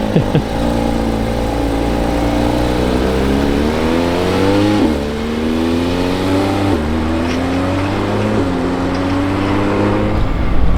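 A white and black Lamborghini Urus S revs hard up close, its engine climbing through gears in rising sweeps with brief dips between shifts, loud and continuous.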